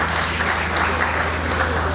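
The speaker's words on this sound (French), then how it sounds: "Est-ce qu'on peut applaudir pour le maréchal?" Audience applause at an 83rd birthday celebration in Washington DC, a steady dense wash of clapping from a room full of people, loud and continuous with a low hum underneath.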